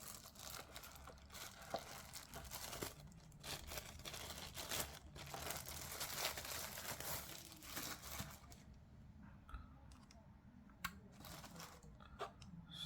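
Packaging for an ANBERNIC RG351P retro handheld console is handled up close, giving faint bursts of crinkling and rustling with small taps and scrapes.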